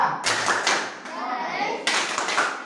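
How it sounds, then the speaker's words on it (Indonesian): Schoolchildren in a classroom do the PPK rhythmic clapping chant together, sharp group claps in bursts mixed with their chanting voices. "Jadi kita lakukan PPK secara bersama. Tepuk PPK."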